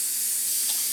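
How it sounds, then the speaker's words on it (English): Compressed air hisses steadily from a leaking air tool, a continuous broadband rush that stays loud and even throughout with no talking. "this thing has quite a leak here, so I'm just losing a lot of air the second I plug it in"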